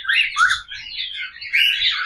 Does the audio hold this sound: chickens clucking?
no